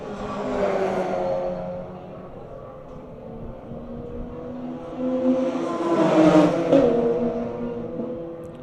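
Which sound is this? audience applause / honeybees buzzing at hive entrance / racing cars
racing cars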